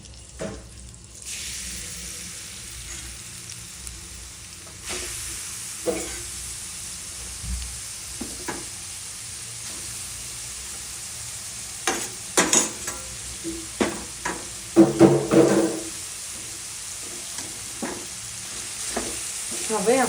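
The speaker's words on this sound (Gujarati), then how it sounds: "હવે આપણે ગાજર અને બીટને ઘીમાં શેકી લઈએ।" Grated carrot and beetroot frying in hot ghee for carrot halwa, a soft continuous sizzle broken by intermittent scraping and stirring clatter that grows busier toward the end.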